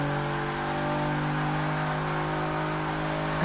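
A Nissan 350Z engine in Forza 6 holds a steady, loud, husky drone at near-constant revs, with strong low harmonics running through the whole stretch and no voices.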